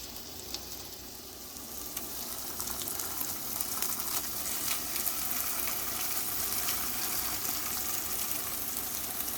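Rich pav bhaji ragda mixture sizzling and spitting in a hot buttered pan, a steady close crackle that holds throughout with faint stirring scrapes.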